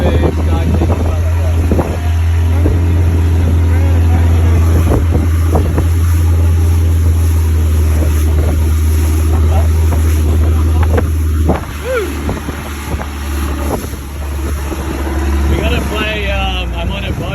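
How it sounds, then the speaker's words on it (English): A boat engine drones steadily under strong wind rushing over the microphone, with water noise throughout and a continuous loud rumble. "I'm on a boat"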